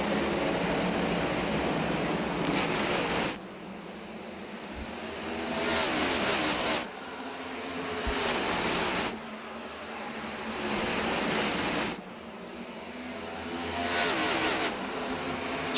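Race cars lap Bristol Motor Speedway in a racing video game. Engine roars swell and fade in repeated waves every few seconds as the pack sweeps past, loud and continuous with no voices.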